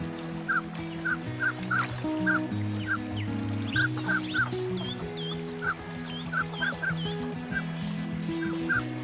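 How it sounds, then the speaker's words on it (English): A colourful mandarin duck bathes in tranquil summer water, giving repeated short honking calls in quick bursts over a steady musical background. "in the tranquil summer waters, the colorful mandarin duck enjoys a refreshing bath."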